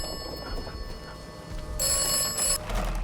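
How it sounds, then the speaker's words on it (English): An old-style telephone rings in the video game Atomfall, a bright ringing bell that sounds over a steady low ambient hum and tonal game backdrop, loud and near, with no talking. "You want to answer the phone instead?"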